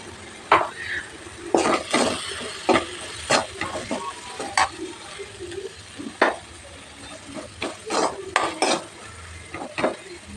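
Potatoes fry with chili powder in a pan, a soft sizzle beneath repeated sharp scrapes and clanks of a metal spoon stirring against the pan at irregular intervals.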